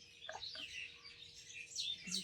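Birds sing in a garden in the morning, with several faint chirps and tweets overlapping against a quiet background.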